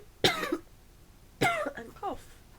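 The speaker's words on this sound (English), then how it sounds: "And cough." Two close, fairly quiet coughs about a second apart, each a sharp burst that breaks into a short voiced tail. The second cough is followed by a brief throaty sound.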